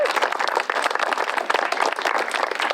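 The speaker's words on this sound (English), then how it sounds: "Let's give that a round of applause." Steady applause from a crowd gathered at a Prescott Chamber ribbon cutting for Madison Park Cottages, a Habitat for Humanity housing project, with dense, even clapping that holds strong for the whole stretch.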